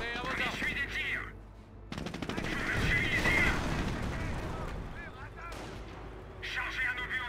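Rapid machine-gun and rifle fire rattles in a Company of Heroes battle. Dense bursts build in the middle and taper off, while soldiers' voices call out between and over the shooting.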